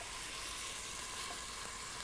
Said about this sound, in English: while the onion is frying off